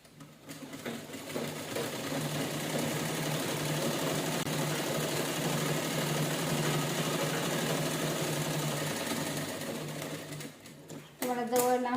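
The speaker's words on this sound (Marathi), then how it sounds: "आपण पटपट सगळं स्टिच करून घेऊया." Sewing machine running fast while stitching a cloth bag, a loud continuous rattling hum that holds steady for about ten seconds, dips briefly, then resumes, with a voice talking over it.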